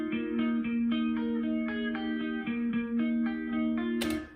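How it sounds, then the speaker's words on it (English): A guitar thinned through a software acoustic guitar effect plays a steady picked pattern of repeated bright notes over a sustained low tone, close and clean, ending with a brief noisy burst. "so I can thin the sound out by putting it through an effect, which sounds like this."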